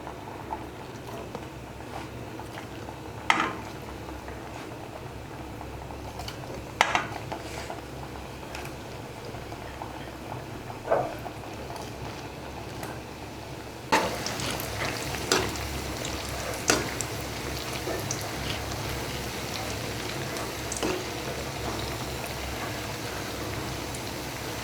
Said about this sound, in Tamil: சூடு பண்ணிவிட்டு அந்த பிஸ்கட்டை போடலாம்.